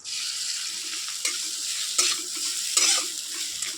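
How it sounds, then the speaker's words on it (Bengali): Continuous frying sizzle of grated coconut in a wok with occasional scraping stirs, close and fairly loud, steady throughout. "এটাও হালকা করে ভেজে নেবো খুব বেশি ভাজার দরকার নেই"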